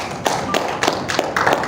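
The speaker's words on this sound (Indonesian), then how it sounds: "Silakan tepuk tangan dulu Bapak Ibu semuanya." Scattered applause from an audience at a book tour event in a hotel in Bogor: a handful of uneven claps that rise and fall in loose bursts, moderately close, with no talking.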